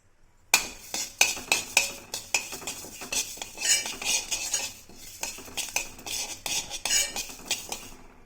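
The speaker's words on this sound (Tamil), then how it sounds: "இந்த மாதிரி ஒரு வடச்சட்டியில் கருப்புழுந்த நல்லா வாசனை வர அளவுக்கு வறுத்துக்கலாம்" Black urad dal being dry roasted in a kadai, with a spoon scraping and clinking against the metal in a quick, steady rhythm of close, rattling strokes for several seconds, and no voices.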